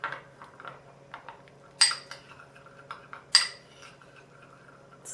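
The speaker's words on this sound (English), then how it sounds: "You stir it up." A spoon stirs crushed garlic ointment in a bowl, giving a few soft scrapes and two sharp, bright clinks against the side at close range, with no talking.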